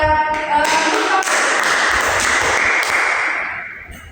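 A class of students breaks into a short burst of applause, dense and loud at first and then fading out over about four seconds, with a voice briefly heard at the start.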